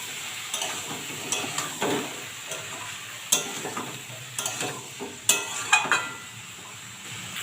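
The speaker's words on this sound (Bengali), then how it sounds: "এবারে এটাকে একটু কষিয়ে নেব।" Chickpeas, paneer and potato stirred and fried together in a pan, a low sizzle broken by repeated sharp scrapes and clinks of the spoon in an irregular rhythm, close by with no talk.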